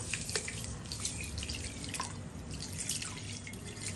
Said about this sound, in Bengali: চালটা একটু ভালো করে ধুয়ে নিয়ে